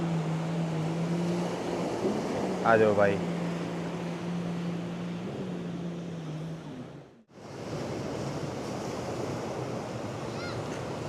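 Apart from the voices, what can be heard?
waves on a sandy beach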